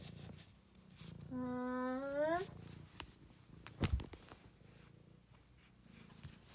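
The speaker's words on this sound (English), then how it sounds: "oh my gosh, cat in my face." A cat purrs right up against the microphone, a close low rumble, with a drawn-out rising meow partway through and a few soft bumps.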